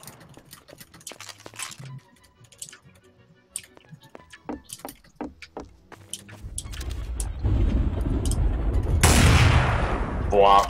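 Gunfire in Garry's Mod Trouble in Terrorist Town: a loud burst of rapid shots near the end follows a stretch of casual talk and clicking, with voices continuing over the shooting.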